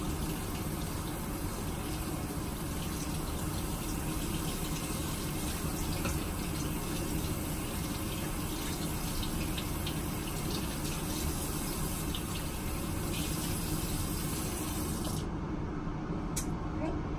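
Warm tap water runs steadily from a bathroom sink faucet while a makeup brush is rinsed under it, a continuous close gushing and splashing that lasts throughout and cuts out sharply near the end.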